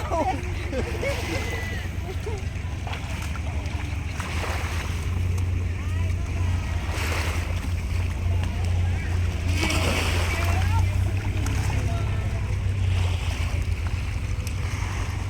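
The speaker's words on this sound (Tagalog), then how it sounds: "Pasakay na kami uli ng bangka." A Filipino bangka boat moves through choppy water, with continuous wash of waves and wind rushing past the microphone, a steady low engine drone underneath, and people talking nearby.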